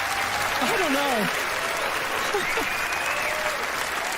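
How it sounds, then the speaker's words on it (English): A television studio audience at a magic show claps and cheers steadily, a loud, dense wash of applause with whoops and shouted voices rising over it. "Let's give Genevieve a round of applause."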